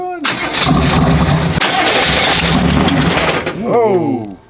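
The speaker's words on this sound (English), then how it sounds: "Bit of a backfire there." Engine cranking and catching after sitting unused for four years, bursting into a loud rough roar with a sharp backfire, then dropping away as voices shout over the tail end.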